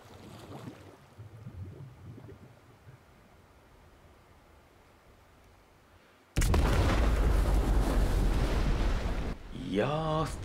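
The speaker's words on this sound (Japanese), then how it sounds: "いやー普通に爆発。" Explosion in the video game Death Stranding: after a quiet stretch, a sudden loud roaring blast of broadband noise sustains for a few seconds, then eases into a lower rumble.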